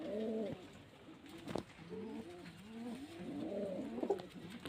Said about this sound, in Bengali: এগুলো সব গিরবাজ লাইনের পায়রা সব মুর্শিদাবাদের প্রিয় দেশি গিরবাজ পায়রা